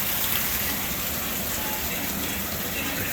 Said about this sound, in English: That's the hardest rain I've ever seen.